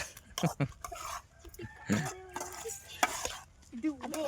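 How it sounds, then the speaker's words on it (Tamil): A spoon scrapes and stirs lemon rice in a pot in irregular bursts, with people talking and chatting close by over the scraping. "கிண்டுமா நல்லா கிண்டுமா"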